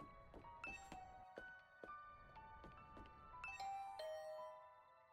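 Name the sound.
doorbell ringing in a visual novel video game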